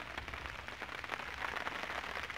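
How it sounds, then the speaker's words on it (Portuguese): Rain falls during a fishing outing, making a faint, dense, even patter of drops that continues steadily with no voices. "E chuva, ó, bateu a chuva de novo."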